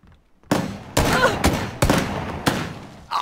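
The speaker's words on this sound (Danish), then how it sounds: "Jeg rammer ham 10 gange med den revolver" Revolver gunshots in a shooter video game, five sharp, loud shots spaced roughly half a second apart, each with a short ringing decay, starting after a brief quiet moment.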